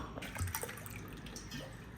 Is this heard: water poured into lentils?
yes